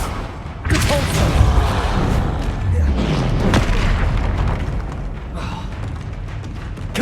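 Repulso spell cast in the video game Hogwarts Legacy during combat, a loud booming thud followed by rumbling blast effects and further impacts, mixed with other battle noise.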